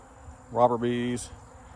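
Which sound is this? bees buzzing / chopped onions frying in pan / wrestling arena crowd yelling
bees buzzing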